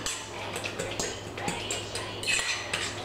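A fork mashes food for easy vegan cookies in a bowl, making a quick series of close metallic scrapes and clinks against the dish with an uneven rhythm and no talking over it.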